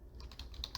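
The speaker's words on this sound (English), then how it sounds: "I will type in" Fingers typing a short word on a computer keyboard, a quick, close run of light clicking keystrokes at a quiet level with no talking.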